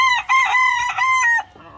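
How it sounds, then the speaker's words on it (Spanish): A gamecock rooster crows loudly and close by, one full drawn-out cock-a-doodle-doo with a clear rising and falling call that breaks off near the end, no talk over it. "Mire este gallo."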